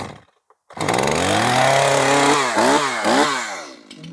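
A Stihl MS 271 Farm Boss chainsaw, just taken off choke to the run position before cutting oak, starts after brief silence and runs loud and close, its engine note swelling and dipping with several quick throttle blips.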